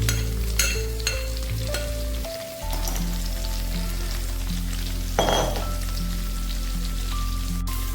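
Stuffed okra curry with spice masala sizzling and frying in a pan while being stirred, a steady crackling sizzle up close with occasional scraping strokes of the spoon.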